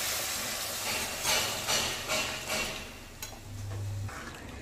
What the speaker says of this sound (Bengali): এবার আমি এখানে দিয়ে দেব আগে থেকে সেদ্ধ করে রাখা ডালটা